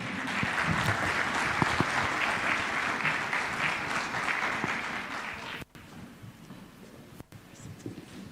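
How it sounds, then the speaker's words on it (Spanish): Sustained applause from a church congregation welcoming a pastor to a gathering in La Paz, Bolivia, a dense, loud wash of clapping that fades to quiet room noise after about five seconds. "Lo recibimos con fuertes aplausos"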